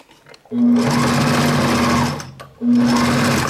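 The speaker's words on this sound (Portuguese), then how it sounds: "Vou costurar 1 centímetro." A sewing machine stitches fabric for a child's dungaree, running in two loud sustained bursts of steady motor hum and needle clatter with a short pause between, close up and alone.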